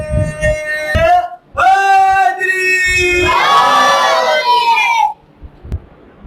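Crowd at a religious gathering celebrating the birth of Imam Zainul Abedin chants the salawat slogan, a loud collective call of many voices swelling in the middle and then stopping, following a single speaker's lead.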